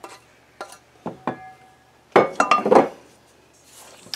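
A few sharp clinks of a utensil on a bowl, then a short burst of scraping and clattering as raisins and sugar are mixed into butter tart muffin batter, close and fairly loud, ending in quiet.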